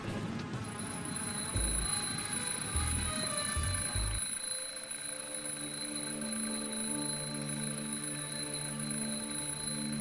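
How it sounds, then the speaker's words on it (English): An alarm clock rings in the Dream Machine video game, a steady electronic ringing tone that runs throughout, joined midway by a sustained chiming buzz while low thuds sound early on. "Looks like an alarm clock."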